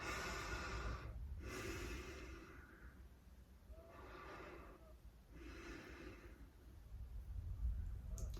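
Deep, slow breathing during a lymphatic drainage facial massage comes as four long airy breaths spaced a couple of seconds apart, close and quiet.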